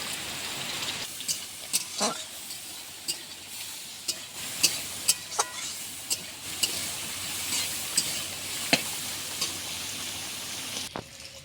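Soybean chunks with torn green chilies fry in a pan, giving a steady hiss broken by scattered sharp clicks and scrapes from stirring, close and moderately loud, with no talking.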